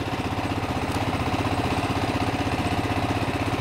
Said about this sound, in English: I'm gonna go ahead and start the scooter